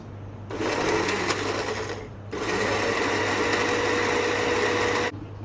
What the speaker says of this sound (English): you want to blend it in pulses rather than blending for a long time or a very high speed